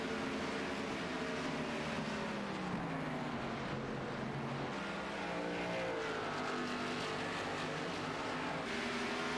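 Race cars run at the Iowa 200 oval event, several engines droning together in a loud, continuous whine that rises and falls as cars pass, with no talk.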